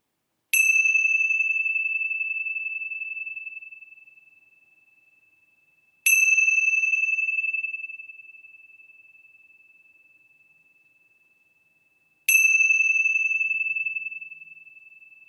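Three bright bell strikes open a meditation session, evenly spaced about six seconds apart, each ringing out with a clear sustained tone that slowly decays into silence before the next one, with no voices.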